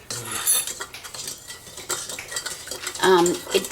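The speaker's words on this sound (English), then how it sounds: "Mix it right into my bowl. Just give that a little bit of a stir." A spoon stirs raw sugar into water in a bowl, quick clinking and scraping against the dish in busy close bursts, with no talking.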